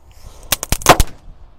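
A dinosaur egg firework goes off in a rapid string of sharp, loud cracks and pops. The bursts come close together over about half a second, then the sound quickly dies away.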